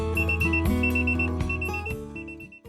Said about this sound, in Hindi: फ्रंट लेफ्ट टायर का प्रेशर 22 से कम हो गया है, इसलिए यहाँ अलार्म बज रहा है